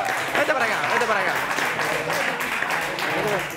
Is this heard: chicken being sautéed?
no